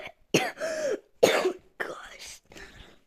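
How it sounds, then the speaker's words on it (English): A person lets out several short coughs and throat-clearing bursts, close and fairly loud, separated by brief silences, with some voiced, speech-like tone mixed into each burst. "why do I cough?"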